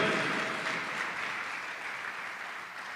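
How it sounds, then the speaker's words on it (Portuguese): A church congregation applauding the Lord during a sermon: a broad wash of clapping, fairly faint and distant, fading gently over a few seconds. "Vamos aplaudir o Senhor"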